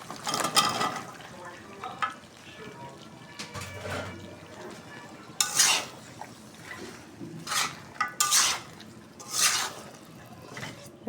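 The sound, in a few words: sautéing spiced mixed vegetables in a pan for khichuri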